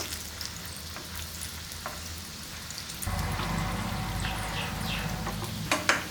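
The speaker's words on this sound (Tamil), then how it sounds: "இப்போ எண்ணெயில் போட்டு எப்படி பொரிக்கலான்றதை பார்ப்போம் வாங்க" Hot oil sizzles and crackles steadily as bottle gourd kofta balls deep-fry, growing louder and fuller as more drop in, with small pops and a brief clink near the end.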